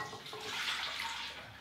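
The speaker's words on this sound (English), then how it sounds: "I'm going to pour it into the bowl." Milk and melted butter poured into a mixing bowl while making Swedish Christmas bread, a short close liquid splash that swells and then eases off, with no talking.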